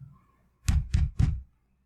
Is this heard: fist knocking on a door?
yes